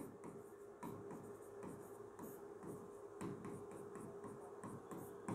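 Marker or chalk writing state names on a board in a classroom geography lesson, continuous scratchy strokes with short pauses between words, close and steady with no talk.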